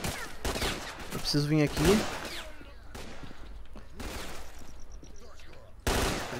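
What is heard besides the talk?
gunfight shootout in video game S.T.A.L.K.E.R.: Clear Sky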